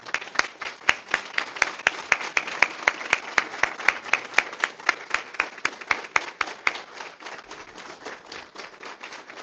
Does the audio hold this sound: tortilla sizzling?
no